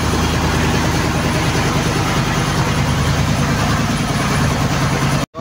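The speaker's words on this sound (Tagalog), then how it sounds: "so parang traktora po ang andar ng aming makina mga idol." A fishing boat engine runs with a loud, steady low chugging like a tractor, dominating the whole stretch before cutting out abruptly just before the end.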